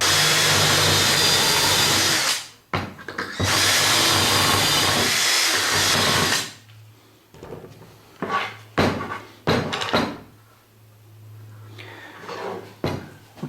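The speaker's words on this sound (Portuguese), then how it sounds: "Eu estou usando uma broca de 8 milímetros com um limitador de profundidade." A power drill bores holes with an 8 mm bit fitted with a depth stop while building an office organizer, loud steady whirring for a few seconds, then a second burst, followed by short clunks and knocks as the drill stops.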